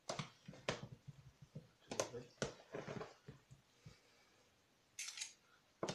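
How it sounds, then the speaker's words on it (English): Cajun potato salad being stirred in a bowl, with several clinking, scraping utensil strokes against the dish, spread irregularly over the span and close by, with some voice-like sound in between. "I'm gonna give it a little stir"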